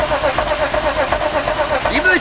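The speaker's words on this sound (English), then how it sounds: "Even the crank sounds cool." A BMW ZHP with a swapped engine cranks over at first start-up, a close, loud rhythmic churning of the starter turning the motor, with voices talking over it.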